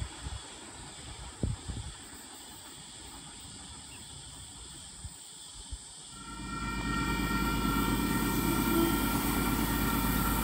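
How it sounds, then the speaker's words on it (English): An XPT passenger train approaches Wondabyne Station in New South Wales on platform one, faint at first amid a few scattered knocks, then swelling at about six seconds into a louder, steady rumble that holds to the end. "Coming through platform number one, oh, it's the XPT."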